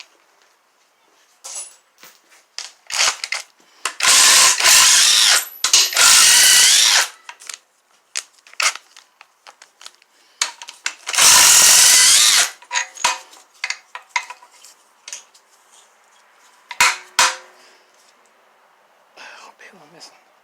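A power wrench spins out 18 mm bolts from the motor mount bracket of a Chevy 2.4 Ecotec engine during a teardown. Three loud, close whirring bursts, each lasting about a second or more, are separated by metallic clicks, clinks and tool handling.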